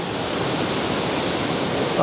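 Waterfall rushing in an old-growth forest at Carmanah Walbran, a steady broadband roar of falling water, close and continuous.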